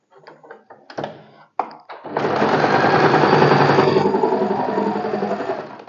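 A few scattered thunks and brief stitch bursts, then a sewing machine runs in a steady, fast, close mechanical rattle while stitching blouse fabric with tucks.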